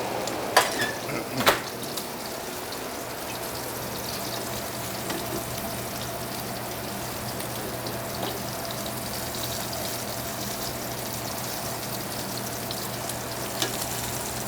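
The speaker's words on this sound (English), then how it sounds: "Saute it up for a couple of minutes" Meat sautéing in a pan in a country club kitchen gives a steady, close sizzle with a few sharp clanks of pan or utensils early on, then continuous frying crackle throughout.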